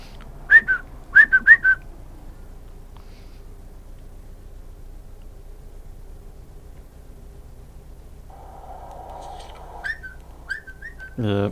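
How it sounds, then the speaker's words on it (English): Short whistled tune notes from a person, a few bursts near the start and again near the end, fairly close and alone over quiet room hiss, with a low murmur in the middle. "always fun when you realise how god-awful you whistle"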